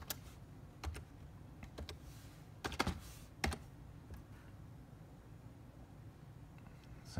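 Typing on a computer keyboard, with scattered keystrokes and short clustered bursts of clicks, soft and close, over a quiet room hum with no talking.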